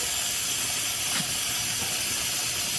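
A laser welds HDPE plastic, melting through the material with a steady, loud, continuous hiss that holds unbroken throughout, with a few faint rustles underneath.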